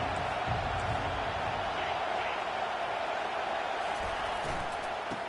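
Large crowd at a University of Florida Gators football game in a packed stadium, a steady broad roar of cheering that holds level throughout, with faint voices mixed in.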